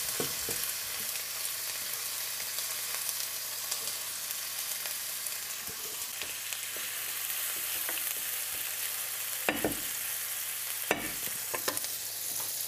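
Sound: onion frying in melted lard

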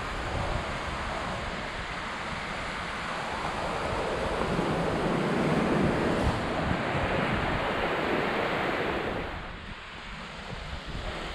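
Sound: ocean waves on a beach

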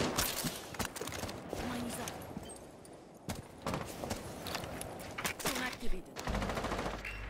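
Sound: gunfire in video game

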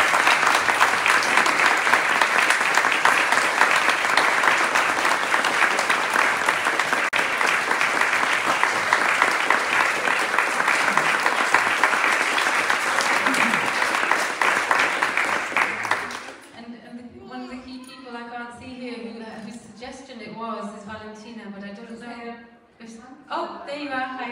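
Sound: round of applause for the cooks of the meal

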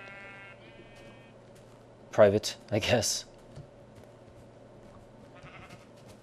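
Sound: sheep bleating in a video game

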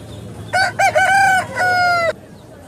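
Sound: roosters crowing at market

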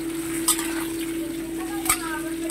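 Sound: frying taro (gabi) in a pan

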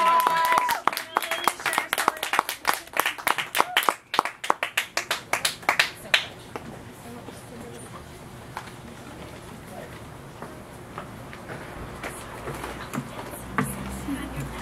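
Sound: audience applause at open mic

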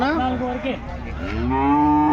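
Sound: Holstein Friesian (HF) calf mooing at cattle market

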